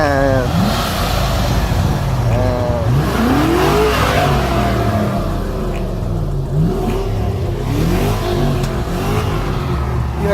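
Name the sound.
sports car engine revving, backfire pops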